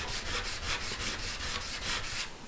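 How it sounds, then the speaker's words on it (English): A charcoal stick is rubbed back and forth on sandpaper to sharpen it, a soft rhythmic scratchy rasping that repeats steadily and sounds close and quiet. "you can sharpen it just by using a piece of sandpaper, and you just rub it in there like that"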